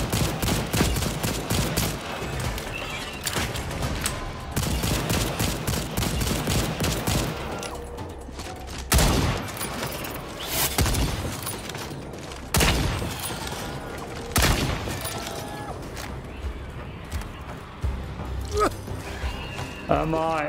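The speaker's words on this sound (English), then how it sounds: "Grenade!" Grenade explosions and gunfire in the dinosaur shooter Second Extinction, repeated loud bursts and booms across the stretch, with a player's voice talking over the action.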